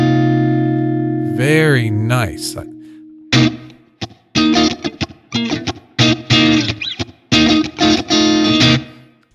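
Funk guitar chord built from root, flat third, flat seventh and eleventh: a sustained strummed chord with bending tone, then a series of sharp, choppy rhythmic stabs separated by short gaps, with a brief spoken comment mixed in.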